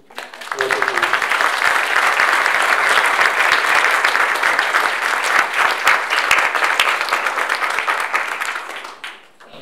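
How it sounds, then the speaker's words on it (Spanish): Audience applause at a panel discussion on social capital, sustainability and competitiveness, a dense, steady burst of many hands clapping for about nine seconds before tapering off near the end. "Por favor, démonos un aplauso."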